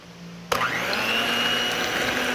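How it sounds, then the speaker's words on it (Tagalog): An electric hand mixer whirs steadily through a bowl of cake or bread batter made from combined ingredients, starting abruptly after a quiet moment and running loud and even to the end, with no talking. "Need po natin i-mix gamit itong mixer cake."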